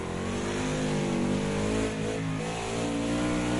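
A modern NASCAR race car engine roars loudly and steadily on the Nordschleife, its pitch shifting briefly mid-way as it brakes and drops through gears into a bend, with no voices.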